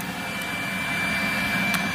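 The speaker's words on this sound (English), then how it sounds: "thanks to this vacuum, this is gonna make quick work out of" A Rainbow SRX water-filter vacuum cleaner runs close by with a steady, dense whir and a thin high whine, used to dust wall art and furniture indoors, continuous with no talk.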